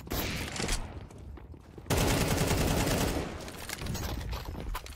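Dense gunfire from a first-person shooter video game rattles in rapid, overlapping bursts. It is loud and continuous, briefly thins, then surges again with heavier volleys.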